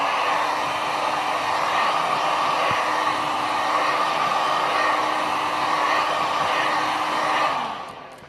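A heat gun blows a steady, loud airy whoosh with a faint whine while softening the glue on a car rear light, running continuously before switching off and fading at the end.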